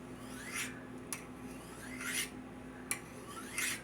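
A large thrift-shop kitchen knife is drawn across a sharpening stone in slow, separate rasping strokes, each a bright scraping sweep with short gaps between. It is heard close and alone.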